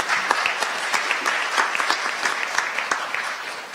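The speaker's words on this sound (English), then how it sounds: "Round of applause for you, Jess." Audience at a Hamilton mayoral debate clapping steadily in a sustained round of applause, dense and even with scattered sharper claps, no speech over it.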